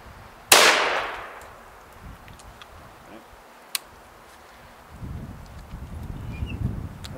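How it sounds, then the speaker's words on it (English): An SKS rifle fires a single round, one loud sharp crack with a decaying echo, followed by quiet handling and clicking. "fire one round off"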